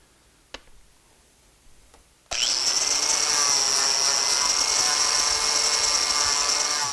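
A power sander works a log stair handrail post: a couple of faint taps, then a loud, steady whining drone that starts abruptly and runs without a break, with no voices.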